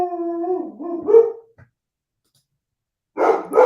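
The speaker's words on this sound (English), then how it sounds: "Didn't you guys miss the barking?" A dog gives a drawn-out, howling bark that rises and falls and then breaks off, followed by silence and a sudden rougher burst of barking, close and loud, with no talk.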